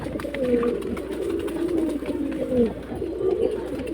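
Pigeons coo in low, soft, rolling calls, repeating close by and fairly loud, with faint background rustle.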